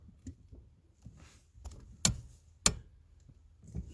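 Brake light switch on a Ford Mondeo mk3 clicking as the brake pedal is released: two sharp, close clicks about half a second apart over quiet shuffling handling noise.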